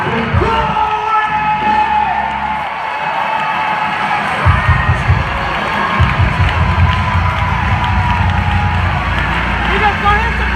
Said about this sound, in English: Everybody, anybody, scream, shout glory.